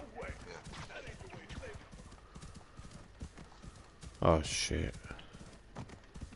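Hooves clip-clopping from a galloping horse in the video game Assassin's Creed Odyssey, a rapid, fairly close rhythm over a snowy landscape, with someone talking over it and a louder burst partway through.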